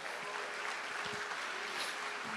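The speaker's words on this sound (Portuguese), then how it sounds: "os que podem, tomem seu assento aplaudindo a Jesus" A church congregation applauds together, a steady wash of many hands clapping at a moderate, fairly distant level, with no speech over it.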